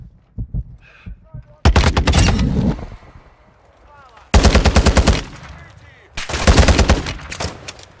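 Gunfire in Call of Duty Warzone 2 DMZ, three loud bursts of rapid automatic fire separated by pauses, with a player talking in between.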